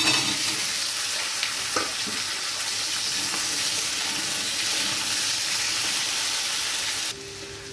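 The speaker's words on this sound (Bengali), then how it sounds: "কচু আর আলুটা হালকা ভাজা হয়ে গেছে" Taro, potato and sliced onion sizzle steadily in a hot pan with a few brief scrapes of stirring, ending with a sudden drop to quieter background.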